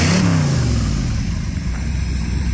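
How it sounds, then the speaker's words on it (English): A 1981 Chrysler Cordoba with a 360 V8 and dual 1-7/8 inch exhausts revs up loudly close by, then settles into a deep, rumbling idle with no talking. "the dual inch and 7/8 exhausts just, again, make it very hard to miss."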